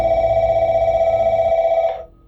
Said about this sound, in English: Then the phone rang.